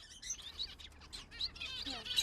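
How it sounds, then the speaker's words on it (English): Small caged foreign finches chirp and tweet in quick, faint bursts close by in a quiet room, a busy, scattered twittering with no talk. "I got 4 buggies and about 8 foreign finches."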